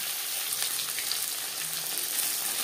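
Catla fish pieces fry lightly in a pan with a soft, even sizzle like light rain, steady and fairly quiet throughout, with no voices.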